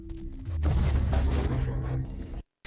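A grenade blast in an action film erupts as a single heavy, rumbling explosion with a broad roar lasting nearly two seconds, then cuts abruptly to silence.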